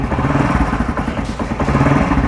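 A motorcycle engine running with a side-gapped spark plug fitted, a steady close-up idle with a rapid, even pulsing throb and some mechanical clatter, with no talk over it.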